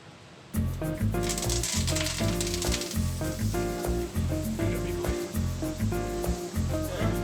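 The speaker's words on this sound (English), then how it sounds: "Nice little saute." Vegetables for a stock sauté in a hot pan, starting abruptly with a loud, close, continuous sizzle and crackle that holds steady, with faint tapping from stirring and no voices.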